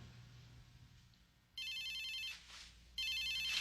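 Telephone ringing in two bursts of bright electronic trilling, each lasting over a second with a short pause between, fairly close and clear over a faint low hum.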